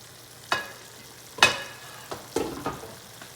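Mixed vegetables for a Gujarati shaak tip into a hot pan and get stirred, giving a few close, separate scraping clatters and a soft sizzle between them, with no talking.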